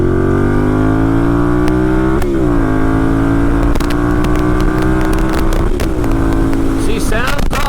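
2012 Ducati 796 Monster engine droning loud and steady, rising in pitch as it revs and then easing, with gear-change dips and wind noise while riding on a country road.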